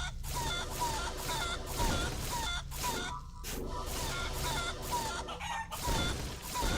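Game chickens clucking and crowing in Guacamelee 2, repeated bird calls over steady game music and effects, fairly loud and continuous with short gaps.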